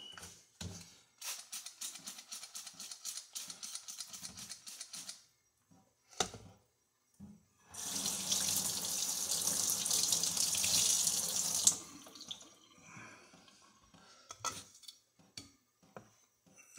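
A kitchen tap runs over a hydrometer as it is sanitized for homemade blackberry wine. Clicks and clinks of handling come first, then a steady, close, loud rush of water for about four seconds before it shuts off, with no talking.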